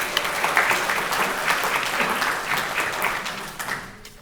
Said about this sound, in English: So a round of applause goes out to that group.